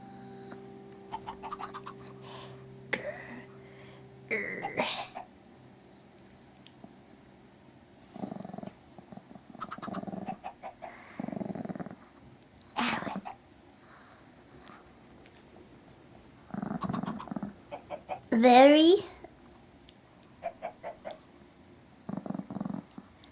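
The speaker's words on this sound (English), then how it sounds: "You want to hear some matcha growls?" A dog named Matcha growls over a piece of cheesecake: low, rumbling, purr-like growls come in scattered bursts, with one louder, sharper outburst near the end and no talking.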